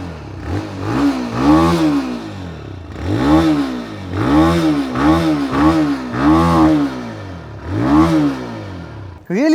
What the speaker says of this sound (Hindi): बट एक बार मैं आपको इसका एग्जॉस्ट नोट सुना देता हूँ